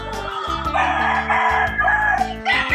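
Gamefowl roosters on a game farm crowing at feeding time, several overlapping harsh cock-a-doodle-doo calls in quick succession with some clucking, loud and near, and no talk.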